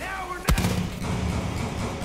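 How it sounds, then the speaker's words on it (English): A sudden explosion in the video game Far Cry 5 lands as a sharp, heavy boom, then trails into a rolling low rumble that carries on under the game's background noise. "Oh, there's an explosion back there."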